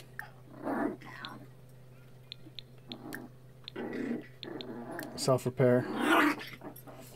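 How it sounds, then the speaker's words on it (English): Puppies in The Sims video game let out short, growly snarls and whimpers, scattered between stretches of a person talking over them. "Oh, growly, growly puppies"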